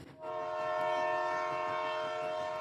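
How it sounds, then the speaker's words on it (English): Train rolling along the tracks with a sustained horn-like tonal hum over a soft rhythmic rumble, steady and moderately distant, with no voices. "The soft chugging of train tracks wake me up."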